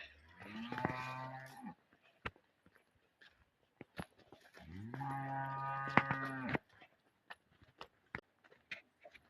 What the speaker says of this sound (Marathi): हे गाय आहे काकाची माझ्या